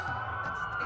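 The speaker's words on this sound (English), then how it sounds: "That's a lot of sirens for a blackout." Police sirens wail in the Watch Dogs video game during a blackout, a steady, moderately loud electronic siren tone held continuously over a low rumble.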